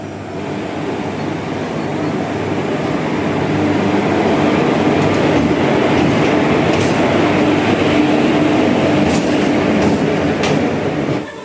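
A Ledo Intercity Express train runs on the Guwahati line, its loud, continuous rumble and rhythmic clatter of wheels on rails building slightly and holding steady, with occasional faint squeals.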